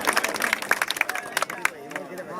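Audience applause at a Saraiki poetry recital, a short burst of scattered clapping with crowd murmur, fairly close and fading out near the end.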